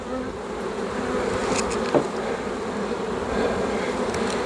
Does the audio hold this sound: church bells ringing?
no